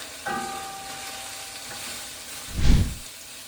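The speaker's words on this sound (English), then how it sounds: "So I'm just going to stir fry this all together" Chopped vegetables stir-fried for pad Thai sizzle steadily in a hot pan, with a faint ringing tone early on and a louder burst of scraping and hissing near the end as the food is tossed.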